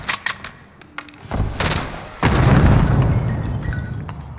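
Frag grenade explosion in a military first-person shooter, preceded by sharp pops and gunfire, then a heavy booming blast that rumbles and lingers loudly.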